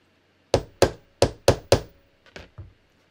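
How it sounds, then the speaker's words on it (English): A hammer strikes a punch during jeans construction: five sharp, evenly spaced loud knocks, then a pause and two fainter taps, close by with no talking. "I've got my hammer right here."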